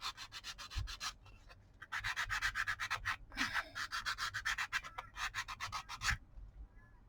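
A file rasps back and forth along the edge of a recycled cardboard coaster in quick repeated strokes, close and fairly quiet, with short pauses between bursts.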